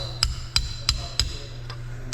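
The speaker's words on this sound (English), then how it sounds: "I just take a hammer and a punch here, and we'll just kind of tap it." A hammer taps a punch on a track loader final drive part, six sharp metallic strikes at a steady rhythm over a low steady hum, close and clear.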